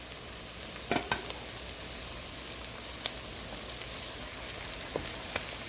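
Soft, steady sizzling of chicken frying with onions in oil in a pan, with a few faint clicks of stirring scattered throughout.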